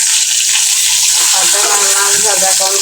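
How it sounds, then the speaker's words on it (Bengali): Fish fries in a pan with a loud, continuous close-up sizzle and hiss, splattering steadily throughout while a voice is faintly heard underneath. "তোমার জন্য আমি ফিশ ফ্রাই করতেছি"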